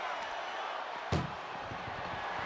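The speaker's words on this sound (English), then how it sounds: "Pushing with every fiber of their being to slam the door." A vehicle door slams shut in the WWE 2K24 ambulance match, one sharp, loud impact midway through, set against steady crowd and arena noise with commentary running underneath.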